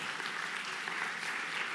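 A church congregation applauds together at a sermon. The clapping is an even, continuous wash at moderate volume with no voices over it.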